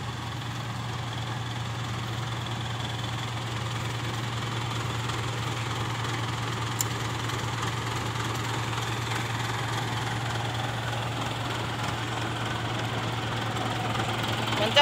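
A Ford 7740 tractor engine labors under load while pulling, giving a loud, steady low drone that holds unbroken for about fifteen seconds with no talking over it.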